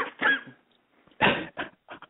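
A person coughs several times in close succession, harsh bursts separated by brief pauses, recorded up close with no other sounds.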